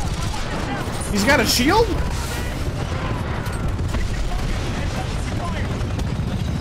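Rocket explosions and dense gunfire from the video game Titanfall 2 form a steady, loud battle din throughout, with a sharper swell of whistling blasts near the start while someone talks over it.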